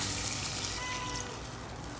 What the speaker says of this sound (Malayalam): ഇനി ഇതിലേക്ക് നമ്മൾ വെള്ളം ഒഴിക്കുക